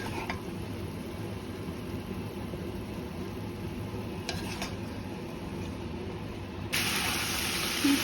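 Fusilli pasta being stirred and mixed in a pan, a steady soft scraping and faint sizzle running throughout, growing slightly brighter and louder near the end, with no talking.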